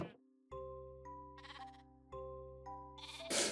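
Sheep bleating in the video game Minecraft: two synthetic bleats, each a sustained harmonic tone, with chime-like game effects and brief hissy bursts between them. No one speaks.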